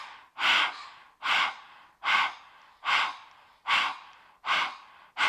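A person pants like a dog with the tongue out, a mouth imitation of a dog. About seven quick, breathy, rhythmic huffs sound close and steady, with no other talk.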